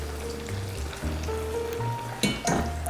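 Eggplant slices fry in hot oil with a steady close sizzle, and a louder crackle flares near the end as a slice is flipped over.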